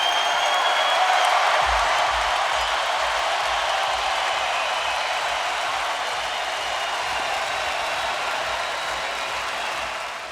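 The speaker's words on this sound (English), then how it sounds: "And that bell rings will let you listen to the crowd." A boxing arena crowd roars and cheers at the final bell of a title fight, a loud, sustained wash of cheering and noise that holds steady throughout with no distinct voices standing out.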